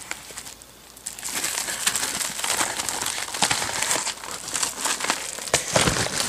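Plastic bag crinkling near the microphone while a Sapphire Radeon HD4670 1GB graphics card is unpacked, a steady rustle with sharper crackles and crumples that grow busier over the last few seconds, with no talk.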